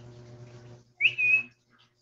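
A close, clear whistle calls a dog, a rising chirp followed by a sustained high note, after a moment of low background hum.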